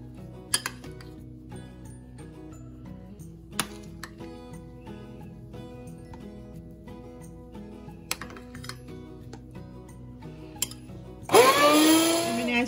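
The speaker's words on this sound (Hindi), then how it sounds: "अब मैं इसमें आइसक्रीम डाल के इसको ग्राइंड करूंगी।" Kitchen clinks and taps of utensils and dishes come first, then a blender suddenly whirs to life, loudly grinding ice cream and milk for a homemade vanilla frappuccino near the end.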